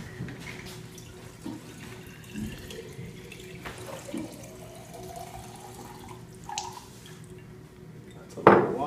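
About 800 milliliters of water is poured during a fluids demonstration, giving a soft trickling and splashing with faint clinks of a container and a louder splash near the end.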